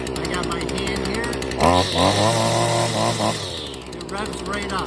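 A small two-stroke engine idles, then revs sharply up as the throttle is squeezed, holding a high buzzing whine for a couple of seconds before dropping back to a rough idle, with someone talking over it.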